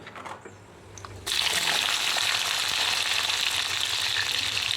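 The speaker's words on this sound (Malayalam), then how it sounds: "എന്നിട്ട് നമുക്ക് കടുക് വറുത്തിടാം" Mustard seeds crackle and sizzle in hot oil for tempering a potato curry, starting quietly then jumping into a loud, steady, dense frying hiss that continues to the end, close and without talk.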